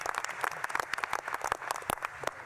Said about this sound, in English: So how about another round of applause for Secretary Ross and Secretary Chao,